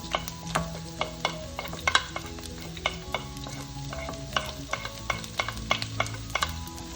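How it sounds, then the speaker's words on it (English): Onions and chopped garlic frying in a pan, stirred with a utensil: steady close sizzle with repeated sharp scrapes and clacks against the pan, no talking. "Give it a little stir."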